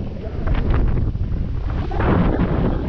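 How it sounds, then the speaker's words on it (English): Outdoor wind gusting across the microphone as a steady rough rumble, loud and close, with no talking. "Wind blowing"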